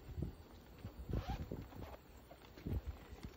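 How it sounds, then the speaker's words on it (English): A zipper is pulled open on a thermal utility cargo tote, giving soft scratchy bursts close by at a low level with no voices. "If you open it up with the zipper closure"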